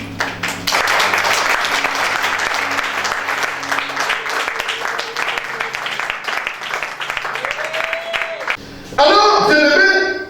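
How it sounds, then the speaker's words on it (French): A church congregation applauds the Lord with steady, loud sustained clapping for about eight seconds, a voice speaking over it, before the applause breaks off and a preacher begins talking. "On acclame le Seigneur."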